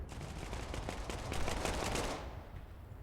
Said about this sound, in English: Scooby-Doo rounding with his pistol, getting some long-range pistol shots, doesn't manage to get the kill